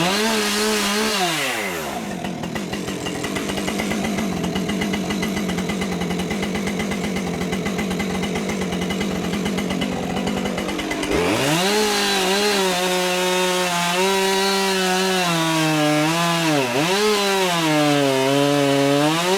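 A chainsaw cuts into a back-leaning tree during felling, the engine howling loud and close under load, then easing off at around eleven seconds before revving and whining again with shifting pitch.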